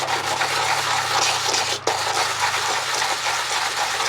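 Sandpaper rubbed by hand against a stainless steel Crosman 2240 air pistol barrel band, a continuous close, loud scratchy rasp with one brief pause partway through.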